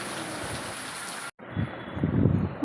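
Night rain pattering steadily after a storm, a dense even hiss that cuts out briefly and returns slightly louder, with no voices.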